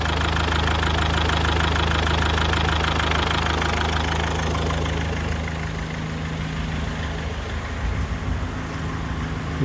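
A replacement engine in a Mazda 6 idling smoothly, a loud steady mechanical hum and fine ticking clatter that hold even, then ease slightly softer toward the end.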